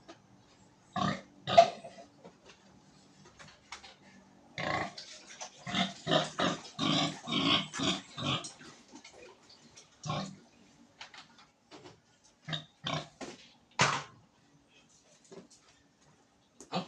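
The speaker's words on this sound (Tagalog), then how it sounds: "Ngayon ay magpakain muna tayo sa ating alagang baboy." Pigs grunting and oinking in bursts at feeding time as five-month-old hogs are given grower feed, irregular clusters of close grunts with short pauses between them.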